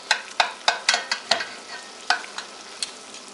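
Knife slicing through a baked meatloaf with mushrooms and onion, a quick series of sharp crisp cuts, close and distinct, tapering off toward the end.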